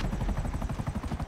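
Helicopter rotor chop in GTA V, flown in first person with a cracked cockpit window, a steady rapid thumping with broad low rumble, loud and close, continuous through the whole stretch with no talk over it.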